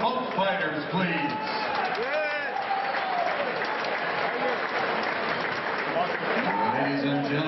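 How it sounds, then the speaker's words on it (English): Spectators at an RFC 31 fight night in Tampa clap and cheer for both fighters, a dense, steady wash of applause mixed with crowd voices throughout. "let's have a nice round of applause for both fighters, please"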